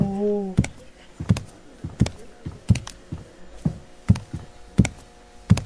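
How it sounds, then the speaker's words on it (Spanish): Footsteps in the horror video game Backrooms of Reality sound as evenly spaced thuds, about two per second, sharp and fairly close, after a short low tone at the start. "Escucho pasos."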